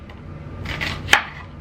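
A few knife strokes chopping vegetables on a board, quiet and close, with one sharper, crisper cut standing out near the end.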